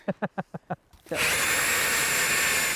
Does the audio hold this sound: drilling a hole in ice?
yes